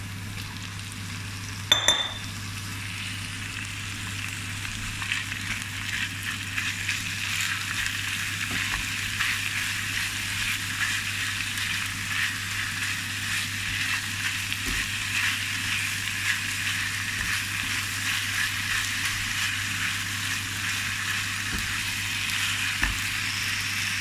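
Ground meat and onion sizzle and fry steadily in a pan for spaghetti bolognese, a continuous close crackle with a brief clink near the start and a few faint knocks, no talking.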